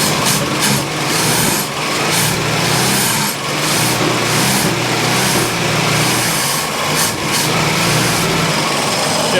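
A car engine idles steadily after a fuel system repair, a loud, close, continuous running drone warming up with a few faint clicks over it.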